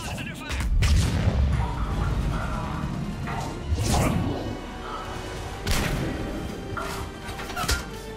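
Sustained gunfire pounds a pod in the sci-fi video game Mass Effect, with heavy thuds, whooshing blasts and crashing impacts arriving in loud clusters over a dense battle din, while a voice speaks in the background.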